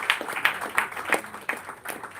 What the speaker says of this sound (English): Please keep clapping for it.